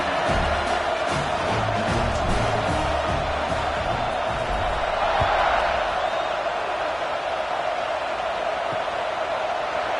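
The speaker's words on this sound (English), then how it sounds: "this crowd is buzzing after that last score" A football stadium crowd buzzes after a score, a dense, steady roar of many voices that swells briefly midway and stays loud throughout, with no single voice standing out.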